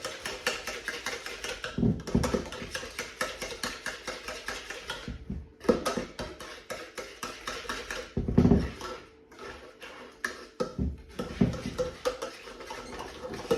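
Sweet waffle batter being mixed inside a sealed Tupperware container, giving rapid irregular sloshing, rattling and knocking close by, with brief pauses between bursts of shaking.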